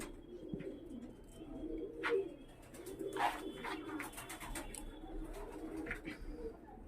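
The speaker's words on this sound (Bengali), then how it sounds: "ভিউয়ার্স শুধু পায়রাগুলো দেখো, যে পাকিস্তানি পায়রা তো অনেক দেখেছো, আর রকি ভাইয়ের বাড়ি একবার দেখে নাও।" Pakistani high-flying pigeons coo softly in their loft, with a few low, rolling calls rising and falling over faint background noise and some light chirps.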